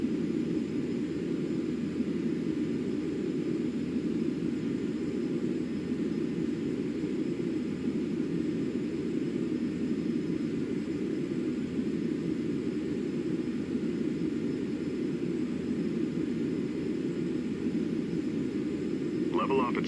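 Steady, continuous jet engine roar during a climb at 80% N1 in a Flight Simulator X airliner, a broad even drone with a high whine layered on top, holding unchanged throughout.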